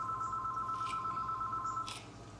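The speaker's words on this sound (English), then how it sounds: "someone's calling on the phone" An indoor telephone rings in a steady electronic tone that continues for about two seconds and then cuts off, with faint background noise and no voices.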